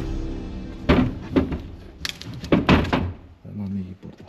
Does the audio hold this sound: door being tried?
yes